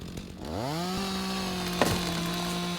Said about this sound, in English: I love the chainsaw.